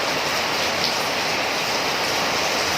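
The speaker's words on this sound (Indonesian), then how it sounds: "suaranya udah kalah sama suara hujan" Heavy rain pours steadily with a dense, unbroken roar that fills the whole sound, loud and constant throughout with no voices.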